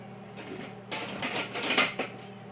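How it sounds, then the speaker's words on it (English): Fruitcake fruit mix tipped into a pot on a stovetop, giving a soft clatter and scraping of metal cookware that swells for about a second amid quiet room noise. "I've got a pot over here on the stove, right here, and we are going to put our fruit mix in there."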